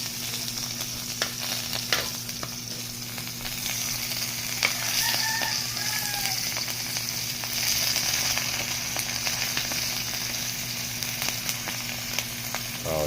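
Dried fish (daing/buwad) frying in a pan, a steady close sizzle and crackle running throughout with small pops and stirring scrapes.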